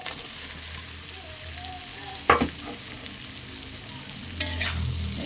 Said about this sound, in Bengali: এবার ভেজে রাখা এঁচড় আর আলু দিয়ে দেবো